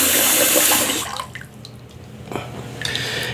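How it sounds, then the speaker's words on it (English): Hot water gushes loudly from a tap into a bathroom sink for about a second, then cuts off, leaving drips and gentle sloshing as the basin settles. "Got the sink filled up with some hot water."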